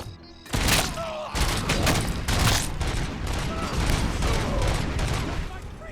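Dense, loud gunfire from the video game Robocop: Rogue City, with bursts of shots and booming impacts rolling almost continuously, close and heavy, with a voice briefly under the barrage.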